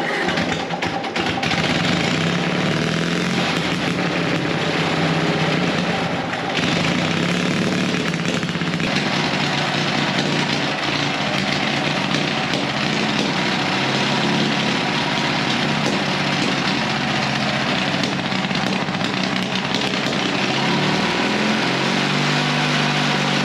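The engine of a 1950s Caterpillar barn-find dozer runs with no muffler, a loud, raw, steady clatter that fills the whole stretch without a break.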